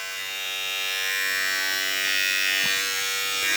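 Wahl Pro Series skeleton trimmer running steadily with a close, loud electric buzz and high whine that swells slightly, no talking over it.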